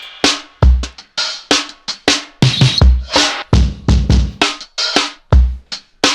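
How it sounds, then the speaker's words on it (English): A drum turnaround plays close and loud, with punchy kick hits and a tight, boxed-in snare striking in an uneven, syncopated pattern. "and then I go to that slightly more claustrophobic snare sound"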